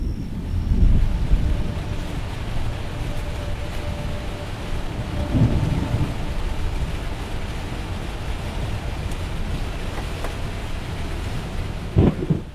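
A thunderstorm rolls through with steady rain and rumbling thunder, low booming swells rising and fading over a constant wash of rainfall and wind.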